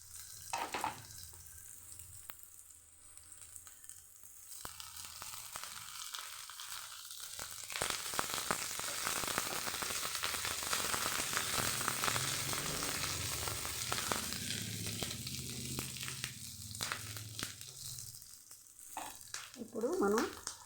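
Ginger, green chillies and curry leaves frying in a pan, a soft steady sizzle that swells louder and spits in the middle, with faint stirring scrapes and a brief low murmur near the end.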